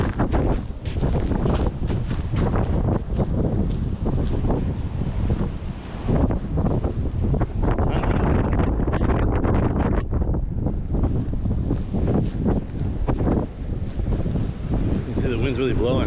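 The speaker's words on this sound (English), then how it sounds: "The wind's really blowing." Strong wind blowing across a sandy beach at Anastasia State Park in St Augustine, Florida, roaring steadily and loudly into the microphone with gusty buffeting throughout, while a person speaks underneath.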